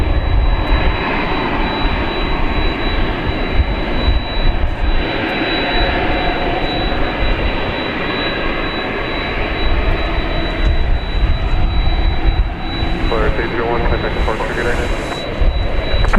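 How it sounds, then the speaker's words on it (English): A jet airplane taking off at night at Dallas Fort Worth International Airport, a loud sustained engine roar with a steady whine, close and continuous throughout, with people talking over it. "Pretty accelerated takeoff there."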